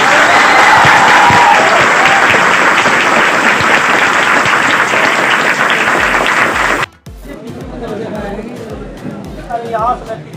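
Loud applause from a classroom crowd welcoming a mathematics teacher, dense steady clapping with chatter mixed in for about seven seconds before cutting off abruptly, followed by quieter room noise and voices.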